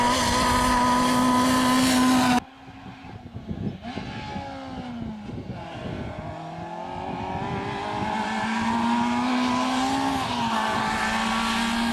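A Citroën Saxo Cup rally car at the Rali S. Jorge 2010 stage, engine loud and close as it revs hard, drops off briefly while shifting, then climbs through the gears again in a sustained, strained roar.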